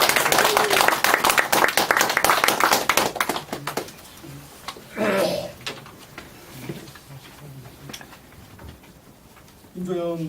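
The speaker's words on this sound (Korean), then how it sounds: "박수" Audience clapping for a pastor's talk at a gathering, dense loud applause for about four seconds that thins to scattered claps, with a voice speaking briefly afterward and clapping resuming at the end.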